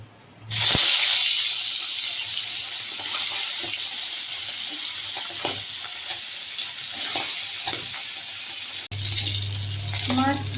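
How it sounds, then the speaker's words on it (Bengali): Bata fish fries in hot oil in a wok, a loud, bright sizzle that starts abruptly and holds steady, with occasional clinks and scrapes of stirring and a brief break near the end. "মাছ ভাজা হয়ে গেছে"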